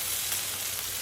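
Chicken thighs stuffed with asparagus and green onion fry in a pan, giving a steady, even hiss of sizzling oil with no talk over it.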